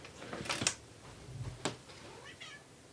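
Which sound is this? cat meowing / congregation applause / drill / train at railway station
cat meowing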